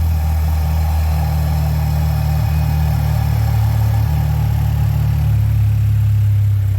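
2016-2019 Chevy Cruze engine fitted with a Turbosmart blowoff valve idles steadily nearby, a low continuous rumble with no distinct venting burst standing out.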